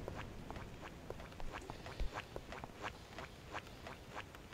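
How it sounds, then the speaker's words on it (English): Footsteps move through a SpongeBob-themed horror video game as a quiet, steady run of light taps in a regular rhythm, heard faintly and alone. "I hear his footsteps"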